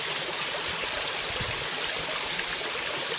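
Steady rushing water of a garden waterfall running over moss-covered rocks in a natural planted setting, a constant close, full wash of splashing flow with no break.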